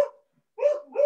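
A dog gives two short, sharp barks separated by a brief pause, fairly close and clear against silence.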